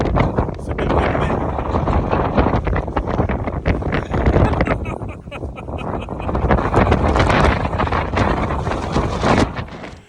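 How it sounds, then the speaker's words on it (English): Strong wind buffets the microphone outdoors on a hill above a lake, a loud continuous roar that rises and falls in gusts with heavy low rumble, covering the whole clip. "a bit windy."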